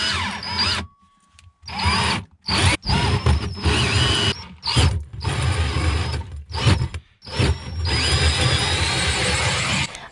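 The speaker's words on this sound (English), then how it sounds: "A 3 1/8 inch diameter hole saw is used to cut the hole." A 3 1/8 inch hole saw bores through a wooden wall inside a camper, the drill whining loud and close in repeated bursts that stop and restart with short pauses between.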